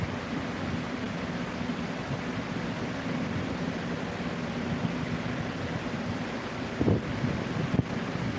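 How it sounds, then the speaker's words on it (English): Wind blowing outdoors, a steady broad rushing roar buffeting the microphone throughout, with a couple of brief louder gusts near the end. "Now the wind will blow underneath because the wind's going that way."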